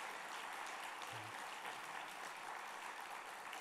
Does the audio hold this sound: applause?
yes